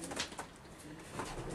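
Soft coos of a young racing pigeon repeat in a low, murmuring rhythm, fairly quiet and nearby, with no voices.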